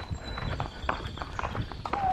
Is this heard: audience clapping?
no